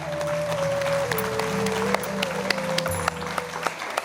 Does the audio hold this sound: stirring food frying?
no